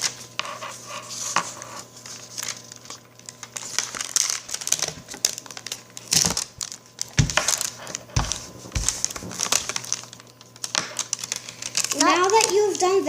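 Sheets of paper being creased and folded by hand to cut a snowflake, giving scattered crinkly rustles and sharp crackles at close range, with speech running over the handling noise.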